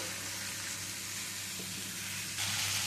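Faint, continuous sizzle of vegetables and fried soybean chunks cooking with spices in a pan, a soft even hiss that swells slightly louder near the end.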